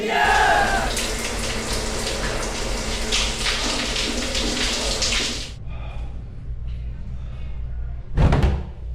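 Shower water runs in a steady, close splashing rush for several seconds, then cuts off, leaving quieter drips and small knocks before a sharp bang near the end.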